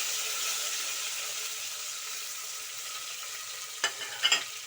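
Continuous sizzling of cumin, curry leaves, garlic, asafoetida and coriander tempering in hot oil, loud and close, with a few sharp clatters near the end.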